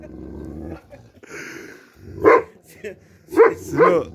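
A dog growls low, then lets out several sharp barks close by, with a person's voice speaking briefly in between.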